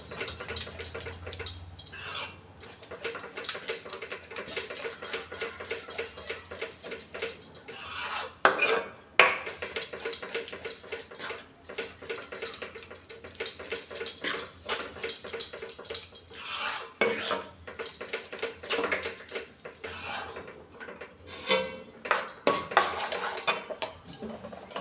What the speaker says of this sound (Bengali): ঠিক এইভাবে ভালোভাবে হাতা দিয়ে ঘুটে নিলে ডালটা পুরো গলে যাবে